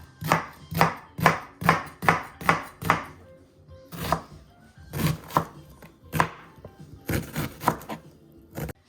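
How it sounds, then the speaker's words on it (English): A knife chopping half of a big onion on a cutting board, a steady run of close, crisp thuds in even rhythm, then a pause and more scattered chops. "I'm gonna cut my onion"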